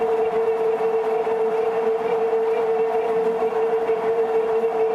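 On a lathe, a boring cut lubricated with tap fluid gives a loud, continuous, unwavering squeal over a low machine rumble, lasting the whole stretch with no talk.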